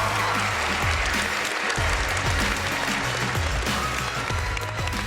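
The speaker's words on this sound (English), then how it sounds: "give them a round of applause" A crowd at a military academy gives a sustained round of applause, dense steady clapping that fills the whole stretch with no talking over it.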